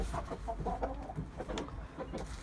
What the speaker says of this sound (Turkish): Şimdi burada da kurkalan diğer tavuğumuz var çünkü.